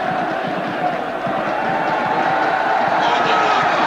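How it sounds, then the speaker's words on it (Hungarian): A football stadium crowd at an NK Zagreb versus ZTE match roars and applauds steadily as a player returns to the pitch, a dense, continuous wash of cheering filling the whole stretch. "És Lovrek újra a pályán, ő kapja a tapsot"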